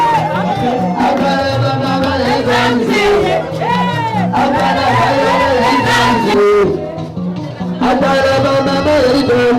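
Loud crowd at an evening celebration gathering, a dense continuous wash of cheering and clapping with music running underneath, sustained throughout as people rise to welcome the guest of honour.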